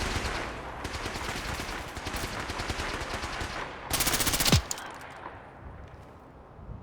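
Rapid automatic gunfire in Fallout 4: a long, loud burst of closely spaced shots lasting several seconds, followed by a sharp crack and a brief falling whine, then fading to quieter background.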